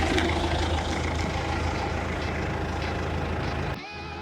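A forklift's engine rumbles steadily and loudly outdoors, a continuous low drone that cuts off abruptly near the end.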